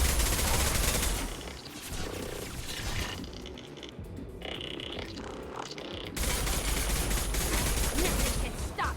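Heavy gunfire in the Mass Effect video game, dense overlapping automatic bursts and shots filling most of the stretch, with a brief lull in the middle before the firing resumes loud and close.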